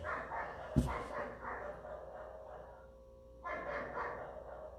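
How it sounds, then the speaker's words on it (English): Dogs bark outside somewhere in the distance on a rainy, cloudy day, muffled and intermittent, over a steady hiss of background noise. "Got the dogs barking outside."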